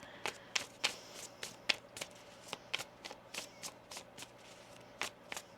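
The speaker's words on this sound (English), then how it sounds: "One more shuffle." Tarot cards being shuffled up close, a quick series of crisp riffling snaps and slaps in an uneven rhythm, quiet and alone without talk.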